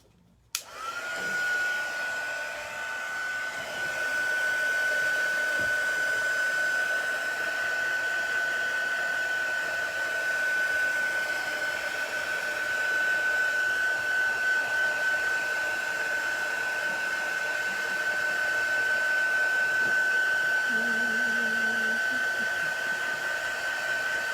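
A heat tool or hair dryer blows steadily to dry ink on a Chalk Couture stencil, making a loud, continuous whirring roar with a high whine that runs nearly unbroken for the whole stretch.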